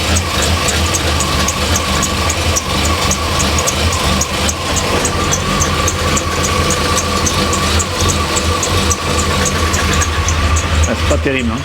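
Ford Mustang engine idling at about 800–900 rpm, rough and uneven with smoke pouring out, a loud continuous rumble with a rhythmic ticking pulse, while someone speaks briefly over it.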